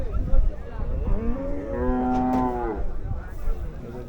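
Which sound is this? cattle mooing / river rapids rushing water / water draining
cattle mooing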